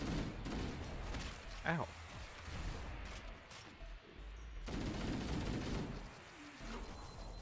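Video game turrets fire bursts of rapid gunshots around the player, loud and close, with clattering impacts and a brief pained yelp.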